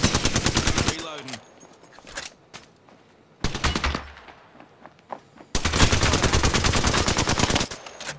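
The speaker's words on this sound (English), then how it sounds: "Guy hip firing." An enemy hip-fires in Apex Legends in three loud, rapid automatic bursts of gunfire, close by and separated by short quiet gaps with faint game sounds, and a voice speaks briefly between them.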